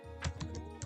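A computer keyboard clicks with a few quiet keystrokes in an uneven rhythm over a low, steady room hum.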